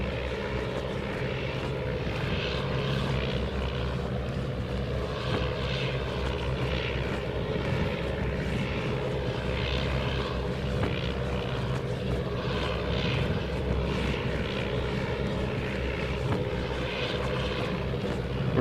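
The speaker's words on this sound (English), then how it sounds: "this aircraft is about 80, 90 kilometers per hour slower than the previous thing" A World War II dive bomber's propeller engine drones steadily at moderate level, a continuous unbroken hum in the Air Conflicts: Pacific Carriers game.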